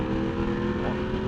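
Taranis motorcycle engine revving hard while riding, a loud, close, throaty roar that swells briefly over steady wind noise.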